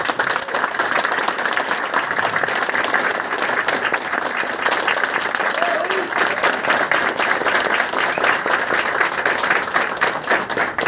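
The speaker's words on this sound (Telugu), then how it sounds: "గట్టిగా బిగ్ రౌండ్ అప్లాజ్ అండి." Loud, sustained applause from an audience at a 19th anniversary celebration and business meeting, with dense clapping that stays steady for about eleven seconds.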